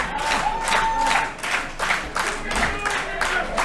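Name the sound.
wrestling crowd applauding and cheering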